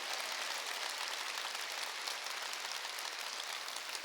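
Sustained applause from a church congregation at a Wednesday worship service, a dense, even wash of clapping hands heard steadily throughout with no speech.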